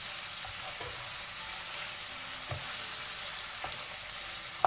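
Spices and dried fenugreek leaves are mixed into chicken liver in a pan, giving a steady fine sizzle with a few soft spoon scrapes and taps, moderately quiet and continuous.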